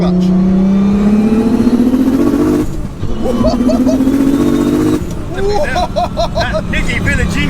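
Tuned car engine revved hard to about 6,000 RPM with a clutch kick on the shift, loud rising engine notes that break off and climb again, with excited voices over the roar.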